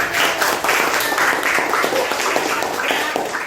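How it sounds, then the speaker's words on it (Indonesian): A classroom of students claps steadily for a few seconds, a dense, fairly loud patter of many hands with no voices. "Tepuk tangan untuk Putri."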